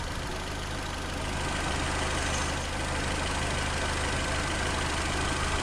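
A Nissan Altima engine idles at a steady, even rumble, loud and close, with no talking.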